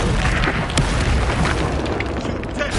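An Expulso spell explodes in a Hogwarts wizarding game, a loud, booming blast with a rumbling tail, overlapped by other crackling spell effects and combat noise.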